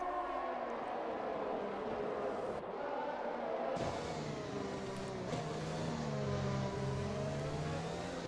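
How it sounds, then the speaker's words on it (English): A race car in a racing video game accelerating hard down the main straight at the Chinese GP, engine note climbing steadily through gears, loud and continuous with no talk over it. "As Jim Bobster now accelerates away down the main straight"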